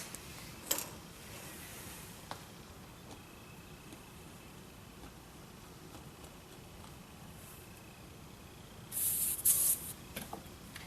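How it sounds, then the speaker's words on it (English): Air is pushed into a tire through a Grit Performance tire deflator with a pressure gauge, heard as a brief, sharp hissing burst near the end after a long stretch of low, steady background noise and a few small clicks. "So as I re-air my tire, I can use that gauge for a pressure check."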